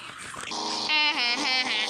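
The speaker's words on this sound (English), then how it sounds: "That's my dog." A pet dog whines and growls in a rising, tonal whimper, close and loud for under two seconds, with no talking over it.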